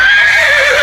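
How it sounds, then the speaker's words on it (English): A horse whinnies once, a loud, close, sustained neigh that wavers slightly and holds steady to the end. "You got it! It's a horse!"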